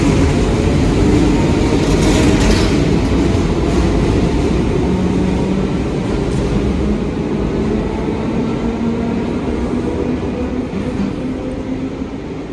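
A Belgrade metro train runs between stations, a loud, steady rumbling roar of wheels and carriage noise heard from inside the car, with faint rattling and a slight easing toward the end.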